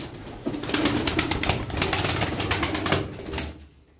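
Domestic pigeons of a blue-grey type, kept by a Kocaeli fancier, coo and call in a steady stream over several seconds, fairly close and moderately loud, with no talk over them.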